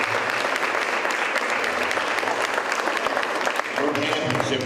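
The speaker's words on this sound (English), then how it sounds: "Give her a round of applause again" Dense, sustained applause from an audience at a city mayor's public announcement event, honoring a speaker, filling the room loudly and steadily from start to finish, with a voice faintly underneath.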